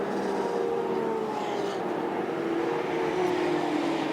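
A Mercedes-Benz GT race car at the Hankook 24 Hours of Dubai passes at speed, its engine a loud, steady roar with a slowly falling pitch as it goes by.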